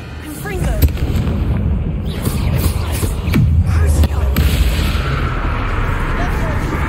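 A Confringo fire spell blast in Hogwarts Legacy bursts with a booming explosion among other game effects, a loud hit near the middle standing over a constant rumbling background.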